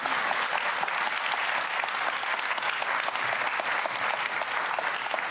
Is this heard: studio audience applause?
yes